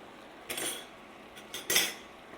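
Flour-coated vegan sausage and mushrooms stirred in a pan with a metal utensil: two bursts of close scraping and clinking against the pan, separated by quiet, with no voices.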